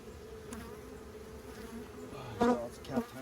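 Honey bees buzz steadily inside an open hive full of capped honey and brood, a close, continuous drone with a couple of brief louder bumps near the end.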